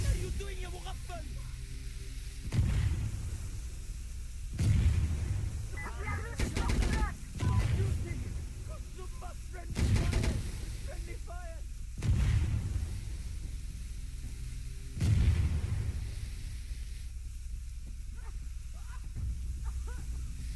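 Bursts of gunfire from the video game Insurgency Sandstorm, a friendly-fire moment, recur every couple of seconds over a steady noisy background, with muffled voice chat in between.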